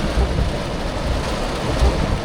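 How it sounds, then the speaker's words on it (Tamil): Heavy rain pours steadily over a partly built, damaged house, a dense, continuous roar of falling water with slightly louder surges, close and loud, with no talking. "பாருங்க மழையா கடுமையான மழை"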